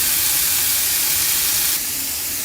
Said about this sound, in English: after you've thoroughly washed and thawed, of course, your clams, you throw those in the pan.